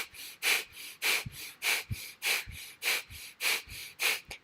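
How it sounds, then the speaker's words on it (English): Forceful pumping breath exercise: about ten sharp, rhythmic nasal exhalations spaced roughly half a second apart, close and clear with no talking. "Feel the exhalations really starting to contract your navel, pumping out that breath."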